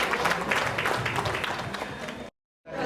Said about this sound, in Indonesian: tepuk tangan buat Bu Sonia aja